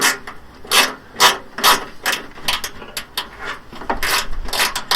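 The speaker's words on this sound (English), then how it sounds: "So you need to get a spanner on it." A spanner tightening a bolt on the front wing of a Fiat 500 gives a run of close, sharp metallic ratcheting clicks and scrapes in irregular bursts, fairly loud, with no talking.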